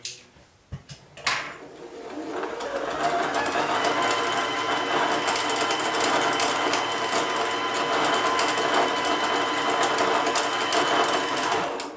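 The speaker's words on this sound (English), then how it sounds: "that will continue winding as long as you hold your foot down" A sewing machine winding a bobbin starts with a few clicks, then settles into a continuous fast mechanical whir that holds steady for about ten seconds, close and loud with no voices.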